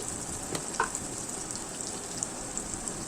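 Steady, soft crackling sizzle of onion and green chilies frying in a pan, with a couple of faint clicks and no talking.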